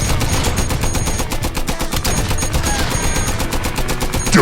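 Rapid, loud volleys of gunfire from a VR western shooter, Guns'n'Stories: Bulletproof, rattle continuously in a dense machine-gun-like stream with no talking.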